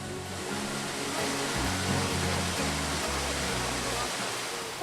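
A waterfall in the Daeunsan mountain valley, Ulsan, roars as a loud, steady broadband rush of falling water that continues without a break from start to finish.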